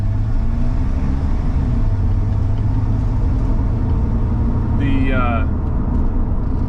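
A Chevy S10 pickup fitted with a Blazer axle, disc brakes, a locker and 3.73 gears drives on a test drive on cold roads, its steady engine rumble and road noise heard from inside the cab alongside brief talk.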